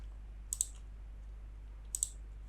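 Computer mouse clicks while configuring thermal bullet camera software: two quick double-clicks about a second and a half apart, crisp and close over a steady low hum.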